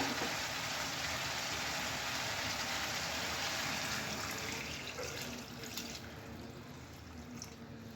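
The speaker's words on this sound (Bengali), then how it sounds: "মশলাটা কষা হয়ে গেছে এবার আমি মাছগুলো দিয়ে জল দিয়ে দেবো" Water poured into a pan of rohu fish curry after the spices have been fried down, a steady broad splashing rush that runs the full length and eases slightly toward the end.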